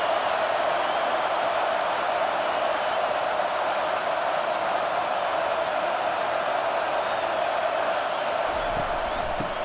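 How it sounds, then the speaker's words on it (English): Dense, steady crowd roar fills a college football video game stadium as the crowd cheers on the defense, Utah versus USC, loud and continuous throughout. "this crowd will blow out a vocal cord to help this defense"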